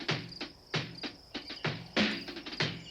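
Cicadas buzz in a lo-fi music track, their high sizzle layered over industrial drum grooves that thump in a steady, repeating pattern throughout.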